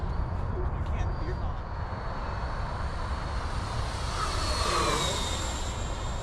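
An FMS Super Scorpion 90mm EDF RC jet flies overhead with a steady rushing ducted-fan whine that swells as it passes nearby, and people talk underneath it.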